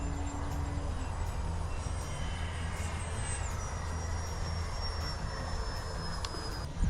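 Distant RC plane engine at full throttle through a roll, a faint thin whine that slides down in pitch over steady wind and outdoor background noise.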